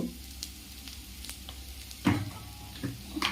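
Ginger garlic paste frying in a pan gives a quiet, steady sizzle, with a few brief stirring scrapes or clinks breaking through.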